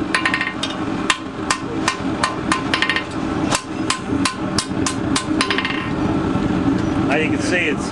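Repeated sharp metallic hammer blows forging a knife blade ring out at a steady working rhythm, close by, over a continuous background hum; the strikes pause briefly near the end.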